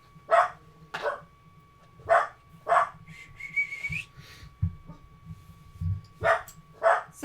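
Salty, a dog indoors, lets out sharp separated barks in an irregular rhythm, close by, with a brief whistle sounding in between.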